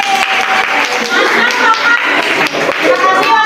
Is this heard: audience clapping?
yes